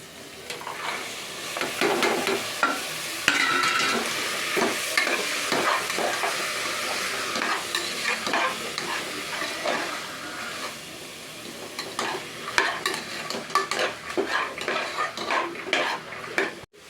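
Carrots and beans stir-fried with tomato, onion, ginger and garlic for a vegetable biryani, a steady close sizzle with frequent spoon scrapes and clinks against the pan, no talking.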